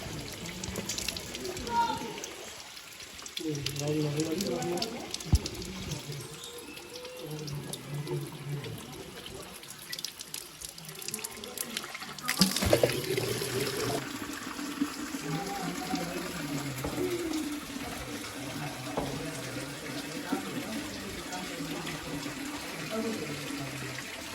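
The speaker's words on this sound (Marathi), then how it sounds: "तिकडून जे पाणी येते" Water runs steadily from a spout at the ancient Shri Keshavraj temple near Dapoli, Ratnagiri, a continuous splashing flow, with voices talking faintly in the background.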